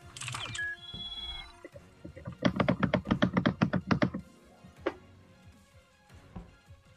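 A rapid burst of keyboard taps moving a character in the game Among Us, about a dozen quick clacks in a tight rhythmic run, with a few isolated clicks before and after.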